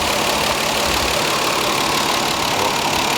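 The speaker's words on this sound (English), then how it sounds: "But the car is just idling right now." A Lexus IS300 engine with a new turbo idles steadily, a constant dense rumble with no voices, unchanging throughout.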